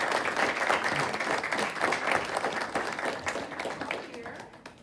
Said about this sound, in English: So if we could give her a round of applause.